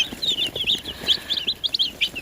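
About a hundred baby chicks, Master Grey and Spanish breeds, peeping together, a busy chorus of high, short chirps repeating rapidly and fairly close.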